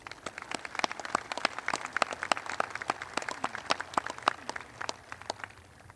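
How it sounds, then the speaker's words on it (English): Sparse outdoor clapping from a modest audience at a Veterans Day observance at The Wall, individual claps distinct and irregular, steady and moderately close for several seconds without voices. "please give them a round of applause"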